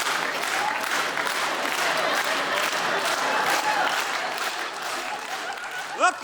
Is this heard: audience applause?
yes